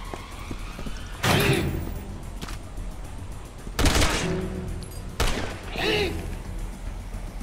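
Bursts of gunfire from Resident Evil 6, with Ada Wong in a chainsaw fight, land as several sharp loud volleys spaced a second or two apart over a steady game background, with a voice talking in between.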